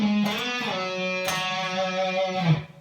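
Electric guitar plays a slow legato run in a Steve Vai style, sustained notes bending and sliding between pitches in a smooth, continuous line, fairly loud and alone.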